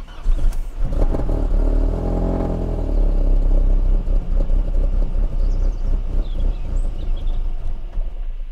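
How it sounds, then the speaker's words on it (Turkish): A car with NGK BKR6EIX iridium spark plugs fitted, started from cold: a loud, close engine cranks and catches, then runs at a steady, rough, rumbling idle throughout. "O yüzden bir soğuk marşımızı yapalım."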